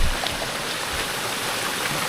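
Steady broadband rush of a small stream flowing nearby at Long Point, Palawan, continuous and even with no voices.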